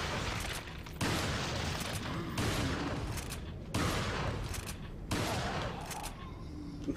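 Shotgun blasts in the video game Resident Evil 4 come as a few loud, evenly spaced booms roughly a second apart, each followed by a sustained rumble under the game's noise.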